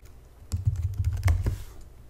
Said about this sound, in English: and then we can just start typing.